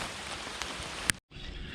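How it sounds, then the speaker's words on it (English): Small hail pattering steadily outdoors after a cold front, a dense broadband hiss of falling ice with one sharp click, broken by a brief gap before the patter resumes. "Oh, we got a little hail. I see hail falling."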